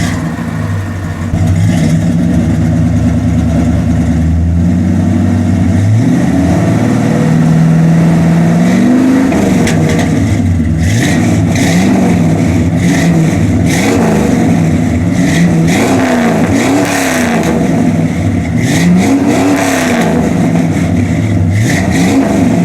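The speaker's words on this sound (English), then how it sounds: "Alright, time to get some proper rev up shots of this thing. I love the way these Flowmasters sound." Ford LTD engine with Flowmaster 40 exhaust revved repeatedly, a loud close rumble rising and falling in a string of quick throttle blips over a steady idle, with no talking.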